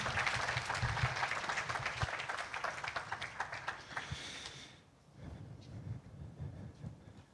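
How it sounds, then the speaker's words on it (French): A church congregation claps during an Easter service, dense applause filling the first few seconds before fading to a quieter room with scattered sounds. "Oui, on peut les applaudir"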